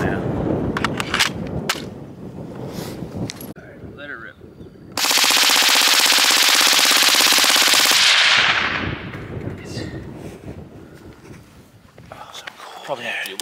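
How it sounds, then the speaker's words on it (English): A P90 SBR rifle fires a sustained full-auto burst lasting about three seconds, a dense, loud rattle of rapid shots at an outdoor range, with people talking before and after. "We got the P90 SBR'd and everything, baby."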